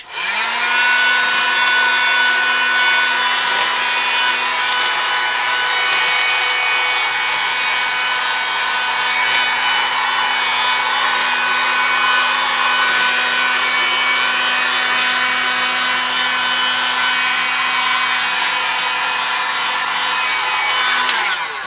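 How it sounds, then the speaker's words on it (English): A heat gun blows steadily over bath bomb packaging to seal it, a loud, constant whirring rush that carries on unbroken for the whole stretch with no voices. "I'm going to seal them, use my heat gun on them, on the tops really quickly"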